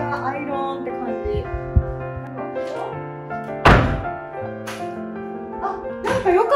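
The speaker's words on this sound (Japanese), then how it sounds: "木の扉が。" A wooden door in a Sri Lankan guest room closes with a dull thunk, and a second solid knock follows shortly after over background voices and tones.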